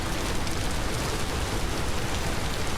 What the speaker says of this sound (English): Man, when will this rain stop?